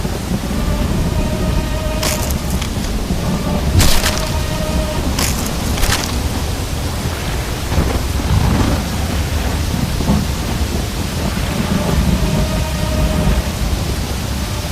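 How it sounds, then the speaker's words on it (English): Heavy rain pours steadily with rolling thunder and a few sharp cracks, a dense continuous storm roar throughout with no talk. "There's been a tumultuous rain, and it has flooded the whole area."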